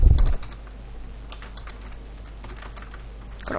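A brief loud thump opens, then soft computer keyboard typing clicks patter steadily at low volume, ending with a slightly louder burst of keystrokes.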